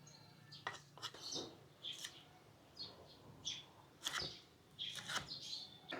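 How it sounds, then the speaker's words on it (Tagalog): Birds chirp in short, sharp bursts scattered across the recording, fairly faint, with a quiet background and occasional clinking. "Kakatawa po yung mga ibon dito. Sarap pakinggan."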